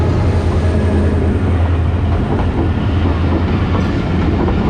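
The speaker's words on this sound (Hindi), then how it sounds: "कराची एक्सप्रेस HGMU 308205 के साथ" Karachi Express hauled by an HGMU locomotive at Kot Lakhpat railway station, a loud, steady rumble of wheels and rail clatter running without a break from start to finish.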